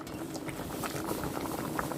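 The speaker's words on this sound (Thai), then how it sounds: "หม้อเดือดแล้ว" A pot of water at a steady rolling boil for blanching sweet leaf and mustard greens, bubbling and churning continuously at close range with no talking.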